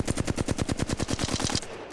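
A gun in the video game Apex Legends fires in rapid automatic bursts, about fifteen sharp evenly spaced shots in under two seconds, loud and close, then stops abruptly.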